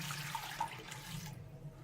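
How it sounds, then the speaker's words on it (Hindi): Water poured from glasses over meat for shami kabab, a brief close splashing, gurgling pour that thins out and stops partway through. "2-3 गिलास पानी है, ये हम डाल देंगे।"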